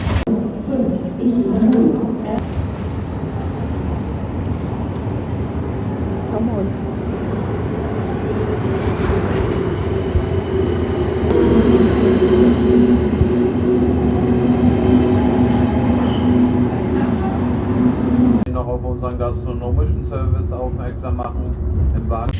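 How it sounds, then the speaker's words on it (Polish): A train in Germany rumbles steadily throughout, with a low rolling drone and occasional rattles, while a person talks over it in Polish. "No i jestem już w trzecim pociągu."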